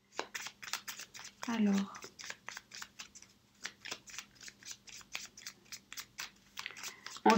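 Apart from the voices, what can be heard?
tarot cards being shuffled and added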